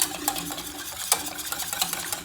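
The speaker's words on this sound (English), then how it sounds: "And keep whisking because we don't want the sauce to be too thick." Quick wire whisk strokes scrape and tick around a pot as milk is worked into a sauce for scalloped potatoes, a steady close rhythm of light metallic swishes with a few sharper clinks, no voices.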